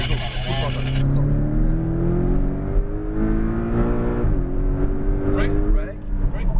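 Porsche Cayman GTS driven at full throttle on a race track, engine note climbing steadily and loudly from inside the car before a brief shift, while a voice talks over it.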